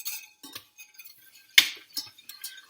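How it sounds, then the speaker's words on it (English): A whisk clinks against a pan as flour is beaten into melted fat for a roux for mac and cheese: sparse, faint metallic taps and scrapes in a quiet room, one sharper clink midway. "you simply take your flour and you're going to whisk it in"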